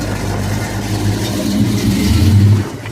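Muscle car engine revving at a car meet in Detroit, a deep throaty rumble that swells louder toward the end, close by with a little outdoor background noise.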